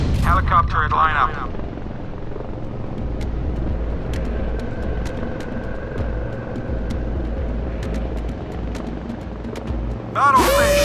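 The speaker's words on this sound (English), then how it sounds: "Helicopter at lineup." Helicopter from the Modern Warships naval combat game, a steady rotor drone held loud and even throughout, with brief voice or radio chatter at the start and end.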